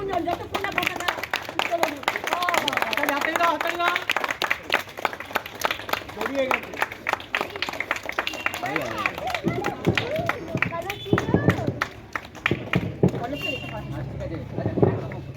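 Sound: audience clapping at a Netaji birth anniversary event

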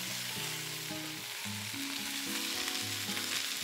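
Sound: stir-frying vegetables in a hot wok

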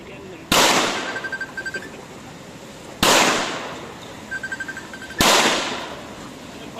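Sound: pistol gunshots from Taurus G3 handgun firing

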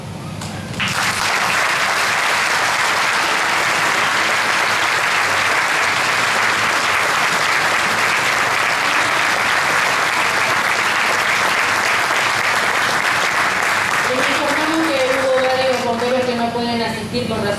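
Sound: audience applause for the volunteer firefighters

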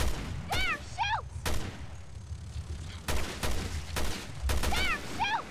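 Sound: gunfire in video game Resident Evil Revelations 2

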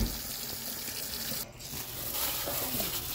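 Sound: tap water running while rinsing sausage and corn

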